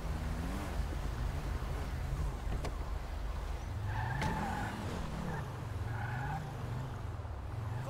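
Car engine drone and tire noise from GTA 5 during a Los Santos police patrol, a steady loud rumble with rising and falling engine tones and brief squeal-like pitches, continuous throughout with no talk.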